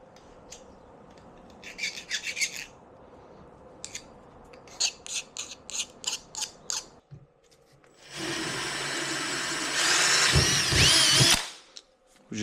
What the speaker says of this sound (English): We just drill that to a